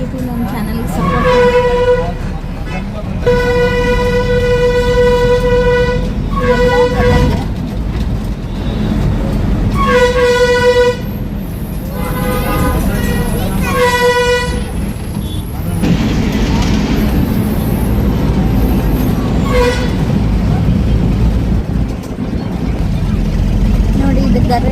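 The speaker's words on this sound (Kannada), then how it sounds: "ಇದು ಗದಗಿನಲ್ಲಿರುವಂಥ ರೈಲ್ವೆ ಸ್ಟೇಷನ್." At Gadag railway station in Karnataka, a train horn sounds in several long blasts separated by pauses, over a constant heavy rumble of vehicle noise, with voices nearby.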